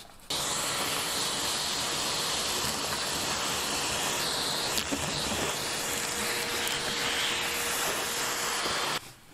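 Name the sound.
vacuum cleaner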